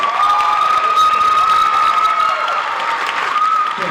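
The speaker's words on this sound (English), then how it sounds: "can we give these fantastic students one more round of applause?" Audience applauding students at a school jazz band concert, steady dense clapping with some cheering that holds for the full four seconds, loud and close, with a sustained tone ringing over it.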